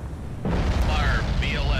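Vertical launch system missile firing in the Cold Waters submarine game with DotMod, a sudden loud whooshing roar that kicks in and sustains with rising hiss, with a voice nearby.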